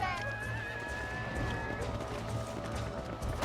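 A horse runs with quick, steady hoofbeats in the video game Red Dead Redemption, heard close and continuous beneath other in-game sounds and tones.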